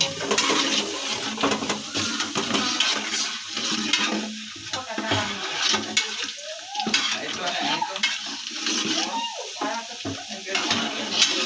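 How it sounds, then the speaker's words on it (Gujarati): Loud sizzling of garlic frying in hot oil, with scraping and stirring sounds coming and going throughout. "લસણ ને સોતરી નાખવાનું તેલમાં"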